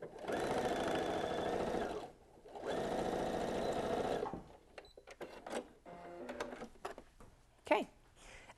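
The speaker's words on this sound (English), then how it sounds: "head over to the sewing machine and stitch it back down that line" A sewing machine stitches a seam on fabric for a clutch purse, running in two close, steady bursts of rapid mechanical chatter, followed by quieter clicks and handling sounds.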